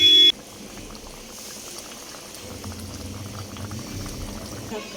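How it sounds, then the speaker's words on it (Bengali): A dish bubbles in a pot over a high flame, a low continuous rolling boil after a brief loud burst at the start, steady and close with no voices. "অল্প একটু হাই ফ্লেমে এটা ফুটিয়ে নিই"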